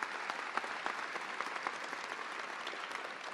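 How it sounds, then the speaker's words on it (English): A crowd at a Los Angeles Metro press briefing gives a round of applause for two honorees. The clapping is dense and sustained at steady strength, with sharp individual claps standing out and no talk over it. "Let's also give another round of applause."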